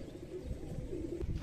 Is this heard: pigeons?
yes